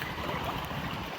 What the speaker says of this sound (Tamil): ஃபுல்லாவே வந்து தண்ணி தான், ஹெவியா வந்து வாட்டர் தான் எல்லா பக்கமும்.